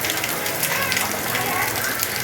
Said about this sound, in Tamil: இவ்வளோ ஃபாஸ்ட்டாக வந்து மழை பெஞ்சிட்டே இருக்குது.